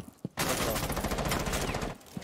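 Rapid gunfire from a Crimson Heist round in a first-person shooter game, a dense sustained burst lasting about a second and a half after a brief quiet lead-in, loud and continuous with a few faint thuds around it.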